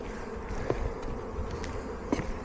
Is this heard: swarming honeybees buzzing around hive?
yes